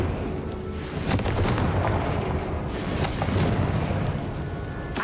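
Confringo blasting spell in Hogwarts Legacy, heard as a loud booming explosion that rolls into rumbling debris, with a second blast-like burst following amid continuous game noise.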